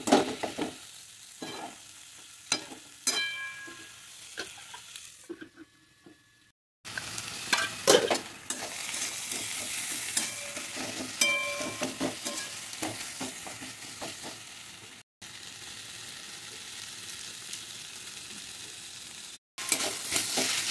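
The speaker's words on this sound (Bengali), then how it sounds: "আমি এখন টমেটোটা দিয়ে ভালো করে নাড়াচাড়া করব।" Tomatoes with a pinch of salt and spices frying in a pan, stirred in uneven bursts of scraping over a soft sizzle, with brief silent gaps between passes and no voices.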